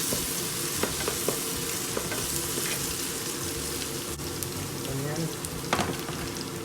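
Onions frying for chicken biryani, a bright, steady sizzle with regular stirring scrapes and clinks in a pan, close up, with faint speech in the background.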